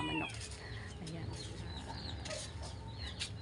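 Chickens at an outdoor rural yard clucking in short scattered calls, fairly close over steady wind noise, with no one speaking.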